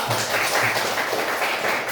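A class of fourth-grade schoolchildren clapping together in a classroom, producing a short burst of dense, overlapping applause that stays fairly even from start to finish.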